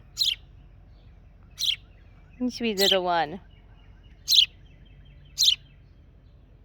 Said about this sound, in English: Who's a good bird? You a good bird.